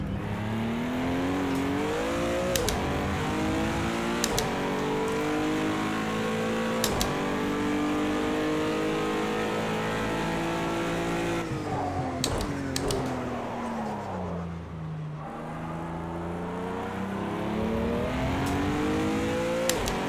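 A race car engine in a sim racing video game revs steadily, rising and falling through gear shifts with brief clicks and one deeper slowdown midway, loud and continuous without talking.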